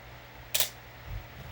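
A Canon New F-1 35mm camera from 1981, with no film loaded, fires its shutter at 1/2000 second in manual mode. A single sharp, crisp click is heard close up, then a faint low thud follows in a quiet room.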